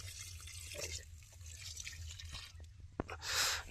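Rice-washing water poured onto a bottle gourd plant: soft, steady trickling and dripping of water, with a brief, louder splash of pouring near the end.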